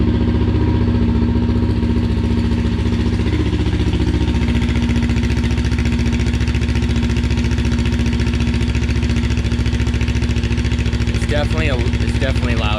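A Kawasaki Ninja 400 motorcycle with a modified exhaust baffle idles after a cold start, giving a loud, steady low engine drone heard up close throughout.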